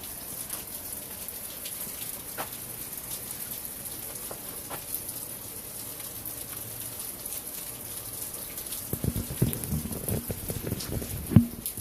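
Steady rain patters on surfaces in Arizona, a dense continuous hiss throughout, with a few louder nearby drips and knocks building toward the end.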